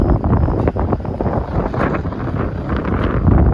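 Strong wind buffets the microphone at the I30 Dragway in Caddo Mills, Texas. It is a loud, continuous, rough roar, close and unbroken.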